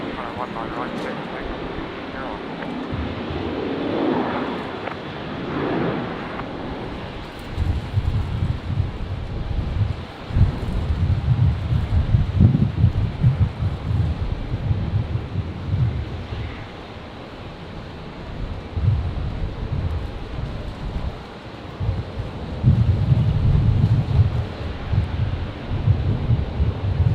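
A Virgin Australia airliner, flight 601, takes off from runway 19 right at Brisbane Airport on a windy day, its engine roar building into a heavy low rumble that swells and fades under gusty wind noise.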